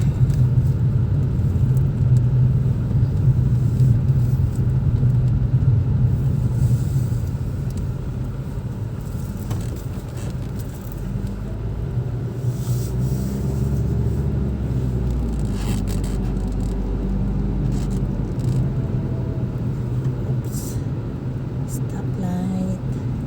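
A car drives through narrow downtown streets of Nassau, Bahamas, a steady low engine and road rumble from inside the cabin with voices talking throughout.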